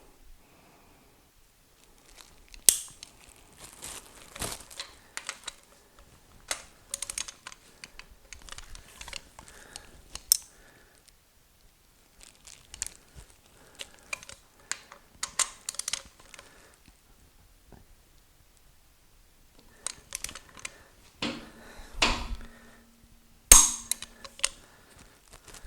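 A torque wrench brings bolts on an Olds 455 engine to a final torque of 70, giving sparse, sharp ratchet clicks in scattered clusters, close and moderately loud in a quiet workshop.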